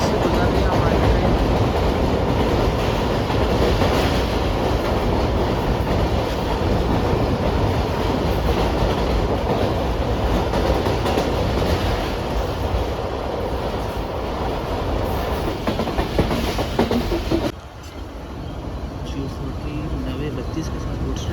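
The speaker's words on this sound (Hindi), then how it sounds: "बारात ब्रिज से गुजर रही है हमारी ट्रेन।" A Pak Business Express passenger train (Karachi to Lahore) rolls across a bridge, its steady loud rumble and rail clatter heard from inside the carriage, dropping in level near the end.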